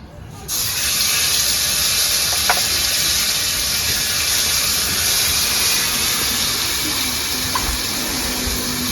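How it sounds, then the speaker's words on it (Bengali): Cumin seeds and bay leaf sizzling in hot oil for tempering while cooking a chana dal and banana flower kofta curry, a sharp onset then a steady, loud, hissing sizzle that continues unbroken, close up. "তাই জন্য ফোড়নে দেব জিরে আর তেজপাতা"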